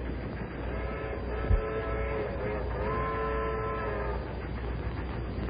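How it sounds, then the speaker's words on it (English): Train rumbling past with a drawn-out whistle or horn blowing over the steady rolling noise, moderately distant and continuous, with no talk. "That sounds like the train from Chicago."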